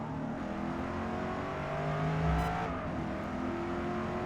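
A 2024 Corvette E-Ray C8 races at the Nürburgring GP circuit in Forza Motorsport, its engine droning steadily with shifting pitch as it swells slightly louder midway, heard without talking.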